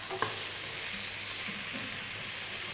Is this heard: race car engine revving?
no